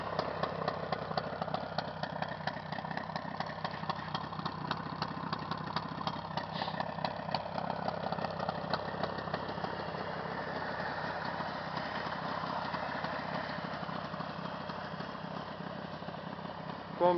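A Jawa 638 motorcycle engine idles steadily with a rapid, even two-stroke putter, close and fairly loud, running on without a break for the whole stretch.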